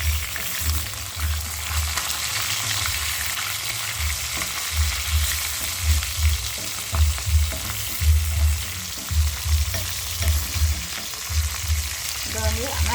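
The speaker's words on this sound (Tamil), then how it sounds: "இறைச்சி வந்து பொரிஞ்சிட்டு இனி மற்ற பக்கம் வடிவாக திருப்பி விடுவோம்." Meat and vegetables frying in a pan for idiyappam kothu, a steady loud sizzle with periodic scraping stirs and low clatter throughout, no voices.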